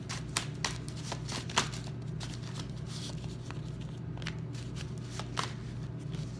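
Tarot cards shuffled close by in a steady run of soft riffling flicks and slaps, a few crisper snaps standing out over a low constant background hum.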